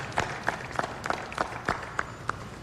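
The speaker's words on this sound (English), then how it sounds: "Let's hear a round of applause for the Durham Bulls" A crowd at a AAA baseball championship trophy ceremony, honouring the Durham Bulls, claps faintly and at a distance in a loose, fairly regular rhythm of individual claps.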